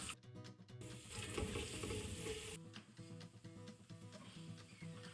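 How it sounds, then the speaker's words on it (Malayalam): Cashew nuts and raisins fry in a pan for a rice-water halwa, giving a loud, continuous close sizzle with faint stirring scrapes and taps, the crackle easing somewhat partway through. "തണ്ടിപ്പരിപ്പും ചെറുതായിട്ടൊന്ന് വറുത്തെടുക്കാം."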